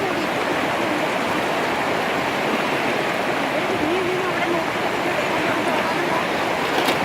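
Floodwater rushing after very heavy rain near Iritty in Kannur's hill region, a loud, constant roar of churning water that fills the whole scene with no letup.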